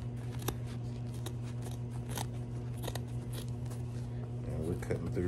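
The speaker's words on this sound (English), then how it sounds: "we're gonna see how well these scissors, which are not trauma shears, how well these scissors hold up" Repeated crisp snips and crunches of scissors cutting through leather, close by, over a steady low hum with faint voices.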